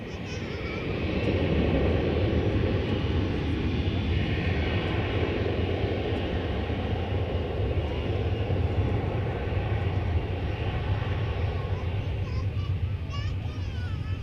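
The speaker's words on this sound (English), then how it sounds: "In the foreground, an Airbus A321 going to San Diego, California, flight 1243." An Airbus A321 airliner at DFW Airport rumbles and roars continuously at a moderate distance, a broad steady engine noise, with faint voices of children and other people underneath.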